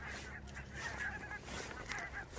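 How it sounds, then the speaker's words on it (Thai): Several nasal honking calls from green-necked ducks, repeated at irregular intervals over a steady outdoor background hum, moderately distant. "เป็ดค่ะเป็ด ตัวคอเขียวๆนะคะ"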